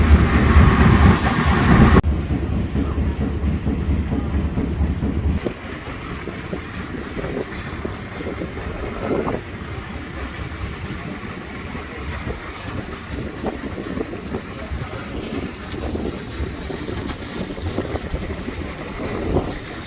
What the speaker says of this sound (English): steam engine down there as well.